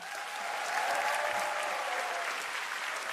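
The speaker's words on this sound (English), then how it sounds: "A big applause for them." Brief, full applause from the audience at the 2025 Right Livelihood Award presentation after laureates are introduced, swelling slightly then holding steady for a few seconds.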